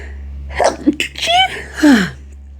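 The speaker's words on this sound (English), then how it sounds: "I've got to sneeze." One person sneezes up close, with a breathy buildup of short gasps before the burst and a brief vocal trail after, over a low steady hum.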